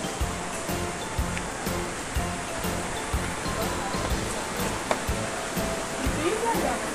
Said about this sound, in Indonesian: Welcome Waterfall Jembong Waterfall Air Terjun Jembong ya